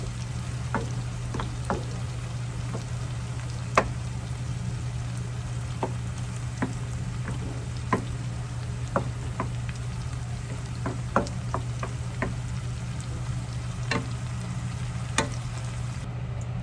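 Shrimp sizzling steadily in a pan for ginisang ampalaya, a constant frying hiss with scattered sharp pops and crackles throughout.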